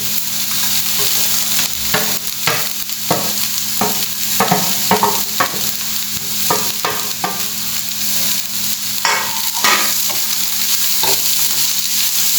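Beef croquette filling of minced beef with onion and tomato sautéing in a pan, a steady close sizzle and frying hiss with repeated scraping stirs throughout, no voices.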